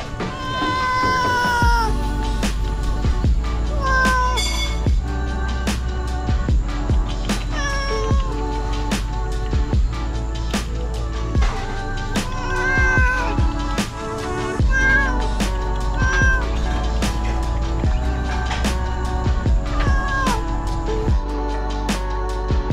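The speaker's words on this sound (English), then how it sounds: "Cat is eating all the bones from the fishes." A cat meows repeatedly while eating fish bones at a restaurant near a beach, the calls close and clear over a steady background hum with frequent sharp clicks and clatter.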